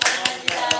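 A church congregation claps in unison, with three sharp, evenly spaced claps over a murmur of voices and music.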